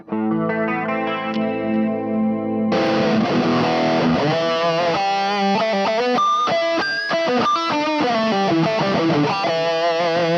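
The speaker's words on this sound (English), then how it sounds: "I have an option to select a distortion effect with this foot switch" An electric guitar rings out clean chords, then a foot switch on a Boss pedal rig (IR-200, MS-3, EV-30) switches abruptly to a loud, distorted, crunchy tone playing a lively riff.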